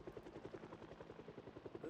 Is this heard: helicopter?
yes